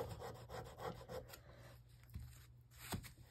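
Daffodil-yellow soft pastel is scraped for card making, giving quiet, close rasping strokes in quick repeated bursts, then sparser scrapes.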